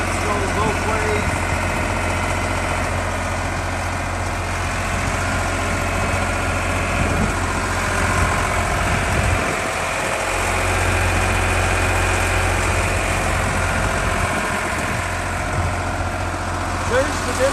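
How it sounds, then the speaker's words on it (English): A Miller DU-OP diesel-powered welding generator runs steadily at a constant idle, a loud, continuous engine drone with strong low rumble and broadband noise throughout, without any pauses. "on the Miller DU-OP diesel powered welding generator"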